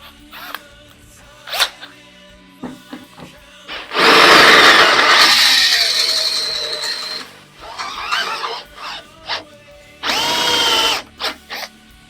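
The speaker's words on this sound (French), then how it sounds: "De ce qu'on peut faire comme essai avec une visseuse" A 12V cordless drill driver, Parkside or Bosch Pro, drills through material in a couple of loud, close runs of whining motor and grinding bit, separated by quieter clicks and handling noises.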